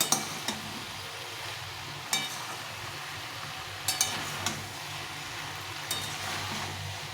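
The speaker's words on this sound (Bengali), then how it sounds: "এটাকে ভালো করে নেড়ে নেড়ে মিশে নিতে হবে সুন্দরভাবে নেড়ে দিতে হবে যেন সব তরকারিগুলো মশলাটা পায়" Mixed vegetable curry with spices stirred in a pan, soft sizzling beneath scraping and several sharp clinks of a utensil against the pot at irregular intervals.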